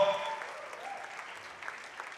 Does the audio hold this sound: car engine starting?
no